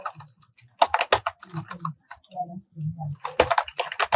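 Typing on a computer keyboard while writing Python code comments, quick bursts of close clicking keystrokes alternating with someone talking.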